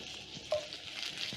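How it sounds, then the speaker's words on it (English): Carrots being tossed in cooking oil in a non-stick pan: a short stretch of soft, steady sizzle with a faint scrape of stirring. "Toss the carrots in the cooking oil"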